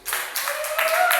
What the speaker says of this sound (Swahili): Mpigie Bwana makofi.